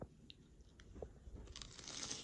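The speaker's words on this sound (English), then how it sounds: "you hear the crunch. And the chew." A freshly baked Nestle Toll House cookie, crisp at the edges and soft in the middle, is bitten and chewed, giving a few quiet, scattered crunches close by.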